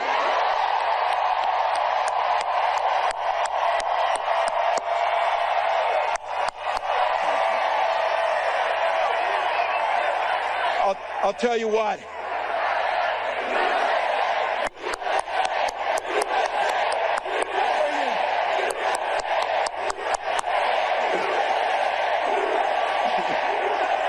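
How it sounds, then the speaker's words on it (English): A very large crowd roars and chants at an outdoor political rally, a broad sustained wash of voices with rhythmic surges, and a voice briefly speaks over it. "Listen to the chants of USA from this very large crowd"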